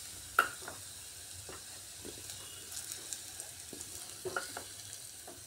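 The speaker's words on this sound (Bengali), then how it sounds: "আলুগুলো উল্টে পাল্টে একটু ভাজা ভাজা করে নিলাম।" Potatoes frying in oil in a pan as they are turned, a soft steady sizzle with scattered small crackles and pops, close and fairly quiet.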